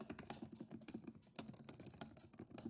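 Fingers type steadily on a computer keyboard, a close, quiet run of quick irregular clicks with brief pauses and no talk over them.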